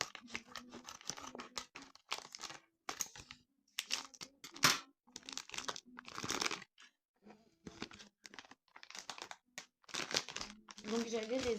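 A vacuum-packed plastic bag of wool balls being opened by hand, with repeated crinkling, tearing and crunching bursts of plastic in short irregular spurts, close and fairly quiet, under intermittent talk.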